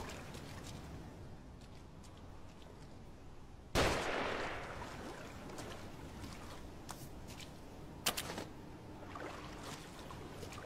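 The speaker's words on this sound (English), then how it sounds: "Find cover, they're shooting." Gunfire in the video game The Evil Within, a single sharp, loud shot with a short decaying tail, then a fainter second crack later over quiet ambient game noise, with no speech.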